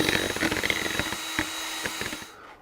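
An electric mixer whirs while beating no-bake banana pudding, with a loud, buzzing motor and uneven scraping pulses that cut off just before the end.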